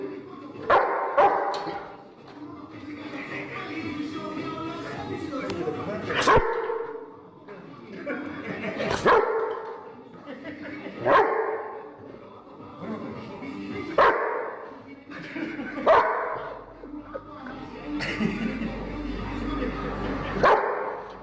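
A large rottweiler barks repeatedly in sharp, loud bursts spaced a second or two apart, mixed with yips and whimpers, while people talk and react nearby.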